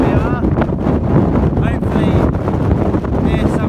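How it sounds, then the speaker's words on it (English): Strong, cold wind batters the microphone outdoors on open downs, a loud, continuous roaring rumble with gusty swells, while people talk beneath it. "it's incredibly cold and incredibly windy"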